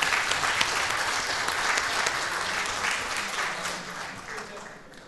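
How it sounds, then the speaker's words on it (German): Sustained applause fills a party congress hall, steady and dense from start to finish, then thins slightly near the end. "dann erstmal nochmal einen Applaus"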